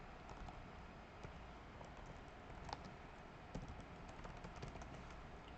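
Soft, rapid keystrokes on a computer keyboard at a command prompt, a faint steady patter of clicks over a low background hiss with a couple of slightly louder taps.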